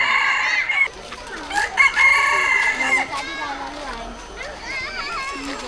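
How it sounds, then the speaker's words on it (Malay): Jungle fowl rooster crowing repeatedly among other clucking and calling fowl, fairly close, with children's voices chattering over and between the calls. "Wah, ada ayam hutan."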